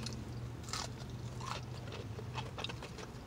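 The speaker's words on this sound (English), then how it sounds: "That one's a little more crunchy." Several crisp crunching bites close to the ear, irregular crackly chews of Popeyes sweet hot butterfly shrimp, crunchy and fried, with no talking.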